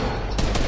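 Rapid gunfire aimed at the player in a video game, a dense, loud, continuous rattle of shots with no break across the short moment.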